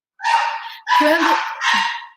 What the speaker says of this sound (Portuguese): Minha cachorrinha latindo aqui.